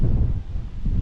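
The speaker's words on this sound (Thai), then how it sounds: "ลมพัดบีบีอยู่เลย" Wind blows steadily across the microphone outdoors at a rural wedding in northern Laos, a loud continuous low rumble and rustle with no voices.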